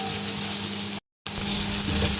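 Garlic dropped into a hot pan while cooking Filipino ginataang hipon sizzles loudly and steadily, a dense crackling fry interrupted by a brief cut of silence before the sizzle resumes just as strong.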